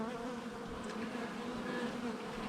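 A small swarm of honeybees buzzes in a steady, dense drone, close and continuous without pauses or voices.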